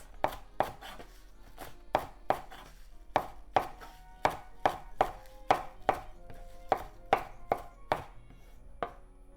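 A knife chops food into small pieces on a cutting board, about twenty crisp, evenly paced knocks, close and clear with no talk; the cook is preparing mitsuba, trimmed of its sponge root, for shrimp and onion kakiage tempura.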